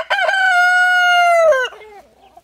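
A rooster at a poultry farm gives one loud, close crow that holds steady for over a second, then breaks into a short trailing cluck. It stands alone with no talk.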